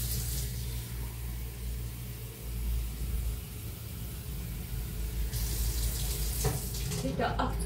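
Cold water gushes fast from a tap into a bathtub, a steady close splashing hiss with a low background rumble, growing brighter and more turbulent toward the end.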